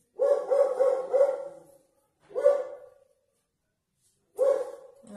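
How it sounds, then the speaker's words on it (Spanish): A dog barks in a domestic kitchen, a short run of sharp barks, then a single bark, then another after a pause, moderately close and clear against a quiet background. "No se asusten con el perro"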